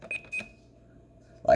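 Two short electronic beeps from a Simon XT alarm keypad in quick succession, followed by a brief burst of sound at the end.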